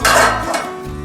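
A metal lid set down over an appe pan of cooking modak lands with a single bright clank at the start and then rings out and fades.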